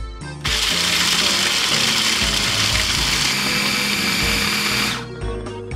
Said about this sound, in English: Cream the butter and sugar until smooth.